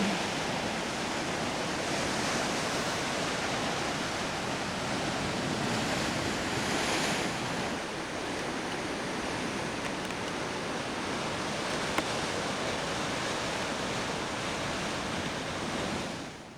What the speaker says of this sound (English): You get the sound of that flowing surf around here.